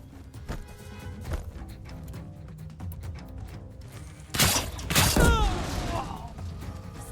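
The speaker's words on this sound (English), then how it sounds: "He has a rocket launcher." An enemy rocket launcher in Horizon Zero Dawn Remastered fires with a sudden loud blast and a crackling, shattering impact partway through, set against busy game ambience and intermittent smaller shots.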